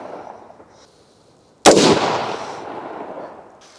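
A single loud shot from a Sechkin Arms MS 18 5.56 rifle cracks sharply outdoors, followed by a long rolling echo that slowly fades, after a quiet stretch of faint ambience.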